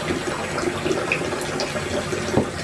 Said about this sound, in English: Drinking out that water fountain?